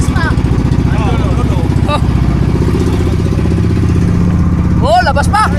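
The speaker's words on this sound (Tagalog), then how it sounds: "Tingnan natin kung gaano kalakas ang makina." Boat engine running loud and steady at sea, a continuous mid-pitched drone throughout, with brief whistles and voices rising over it near the end.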